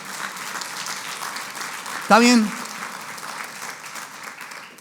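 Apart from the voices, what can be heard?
congregation applauding loudly in church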